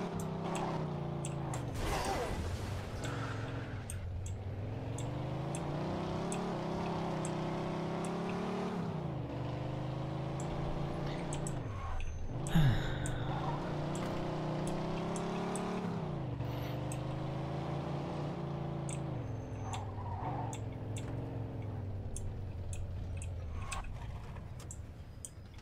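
A Lassiter Series 75 Hollywood car in Mafia II runs with a steady, fairly quiet engine drone that rises and falls through repeated gear-shift dips and revs, with no talk over it.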